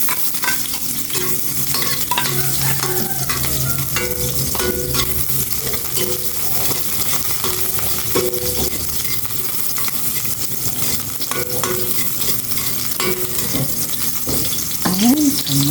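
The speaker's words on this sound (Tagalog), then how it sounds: "Gisa ko na itong sibuyas." Chopped onion sautéing in a frying pan, a steady close sizzle that runs throughout, broken by scraping and clacking as a utensil stirs it.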